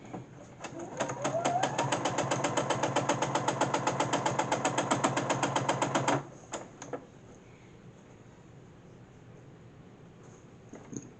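A sewing machine stitching quilt pieces together, a rapid steady run of needle strokes for about six seconds that stops abruptly, followed by a few isolated clicks and quiet.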